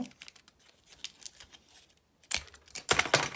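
Household adhesive tape used while building an LED constellation picture frame: light crinkly handling, then two loud, close rasping bursts as tape is ripped from the roll and pressed down.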